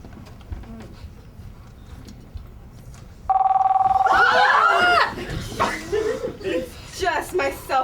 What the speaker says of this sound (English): It's just my cell phone, guys.